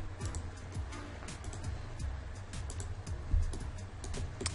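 Keyboard shortcuts typed on a computer keyboard while texturing in Autodesk Maya 2014, heard as light, scattered clicks and taps in short bursts over a low background hum.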